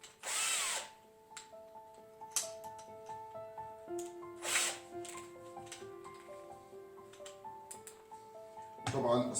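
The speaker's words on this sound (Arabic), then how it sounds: "كيف ممكن انا استخدم الدريل لحفر اذا ما كان عندي دريل طاولة او بريس دريل" Hand-held electric drill boring into a wooden candle holder, a few loud whirring bursts near the start, middle and end, with someone talking steadily in between.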